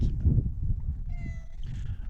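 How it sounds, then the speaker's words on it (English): A domestic cat meows in a garden with trees, a drawn-out tonal call of about a second, fairly close, over low ambient rumble with a brief second cry near the end. "and our cat"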